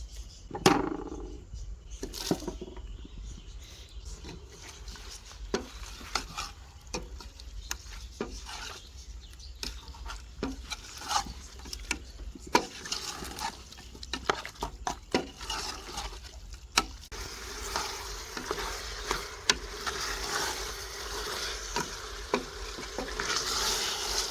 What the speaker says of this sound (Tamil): இப்போ வெங்காயத்தை போட போகிறோம்